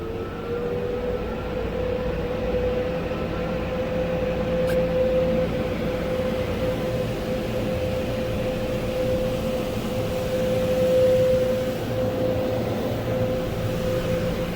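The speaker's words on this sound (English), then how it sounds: "it's doing high pressure on all of the sprayers above" A steady, loud roar of high-pressure spray drumming down from overhead jets, heard from inside a car going through a Royal Farms automatic car wash, with a continuous pump hum running underneath and no talking.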